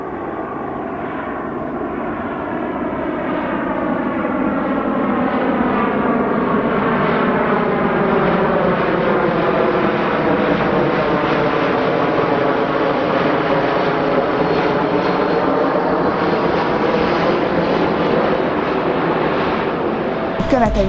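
A fixed-wing airplane passes low near Ferihegy airport in Budapest, its engine roar swelling into a loud, steady drone with a shifting pitch that lasts about twenty seconds before cutting off.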